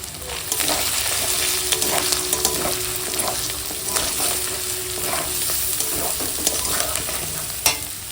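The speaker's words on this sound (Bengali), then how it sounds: "এখন জিরে বাটা দিয়ে ভাজবো একটু কষিয়ে নেব" Cumin paste frying with turmeric and dry chili powder in hot oil, a steady loud sizzle with repeated scraping stirs of a spatula in the pan, close up and with no voices.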